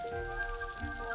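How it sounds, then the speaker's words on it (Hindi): Monsoon rain shower in Mandu, a steady soft hiss of falling rain under a sustained musical drone, even and continuous throughout. "बरसात की नशीली फुहार ने"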